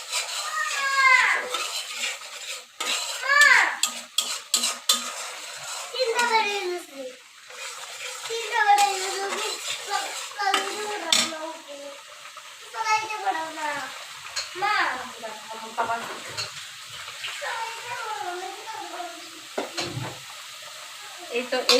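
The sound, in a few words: stirring and frying spice paste in a pan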